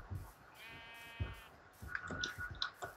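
Sheep bleat in a Minecraft UHC match, a close, wavering bleat followed by a few shorter, higher calls amid light game noise.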